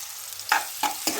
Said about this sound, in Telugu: కొంచెం లైట్గా ఫ్రై అయ్యే వరకు ఇలా తిప్పుతూ ఉండండి